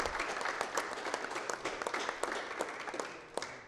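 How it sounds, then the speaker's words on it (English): Audience at the closing ceremony of a Canada versus USA college all-star cricket match applauding, a steady patter of many hands clapping at moderate distance, fairly quiet. "So please give him a big round of applause, guys."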